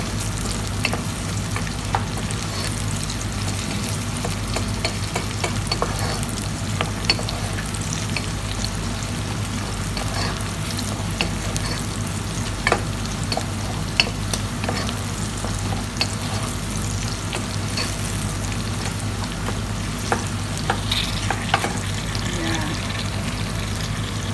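Onions fry steadily in a pan with a constant low sizzle, broken by scattered scraping clicks of stirring throughout, close and moderately quiet, with faint talk at times.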